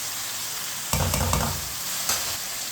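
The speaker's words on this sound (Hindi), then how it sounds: "चिकन को मैंने मिक्स कर लिया।" Chicken stirred in a hot pan for a chicken karela dish, spatula scraping and shifting the pieces in a couple of short bursts over a constant loud sizzle, with no talking.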